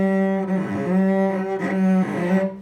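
Sustained cello tone bowed with the string not pressed fully down, giving a thin, breathy, whispery quality; a steady, moderately loud note with slight swells at bow changes and no talking.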